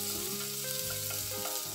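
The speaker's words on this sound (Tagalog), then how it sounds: "Then, igisa natin yung ating bawang. Subot natin ang ating onion." Garlic and onion sautéing in hot oil for molo soup, a steady close sizzle with light stirring scrapes running throughout, no voices.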